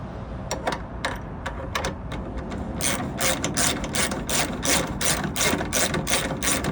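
A hand ratchet tightens a nut onto a bolt while a cab shock is being replaced, producing rapid, close clicking in repeated bursts that grow louder and denser toward the end.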